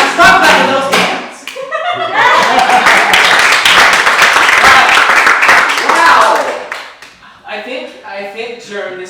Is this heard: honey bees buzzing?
no